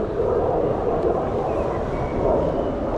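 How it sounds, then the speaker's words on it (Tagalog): A fighter jet flying near a military base on a Greek island gives a steady, loud, broad roar that fills the whole stretch with no break and no voices. "Ah, fighter jet oh naririnig ko palagi sa umaga."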